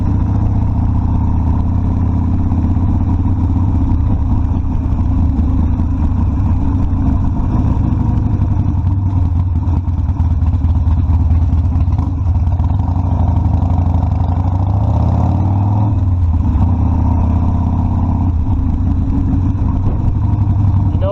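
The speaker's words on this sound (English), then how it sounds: "Hear that exhaust bouncing off this concrete." A Harley Davidson Sportster Custom 1200 rumbles with a deep, steady, loud exhaust note that echoes off nearby concrete, with a slight swell partway through.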